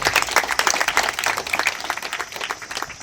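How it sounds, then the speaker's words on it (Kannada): Steady clapping from an audience at the launch of an eye care service in Periyapatna, a brisk, continuous patter of many hands, fairly close and loud throughout. "ಇದಕ್ಕೊಂದು ಜೋರಾದ ಚಪ್ಪಾಳೆ ಬರಲಿ."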